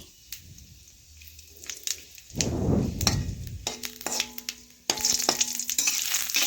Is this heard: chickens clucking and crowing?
no